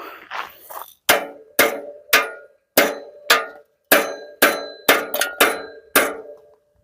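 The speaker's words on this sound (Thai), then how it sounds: "เอาค้อนตอกช่วยนะมันใกล้จะหลุดแล้ว" Steady metallic hammer taps on a bicycle kickstand, about a dozen ringing strikes at an even pace, each with a short clanging decay, close by.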